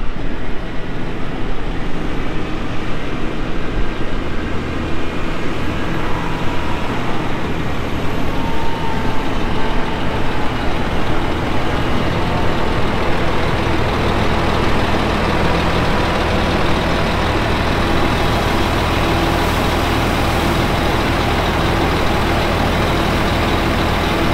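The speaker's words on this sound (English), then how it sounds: "I'll go move the truck for him so he's not having to get out." A farm truck's engine runs at a steady, loud rumble while it is moved around a paddock during barley seeding in Western Australia, droning on without pause.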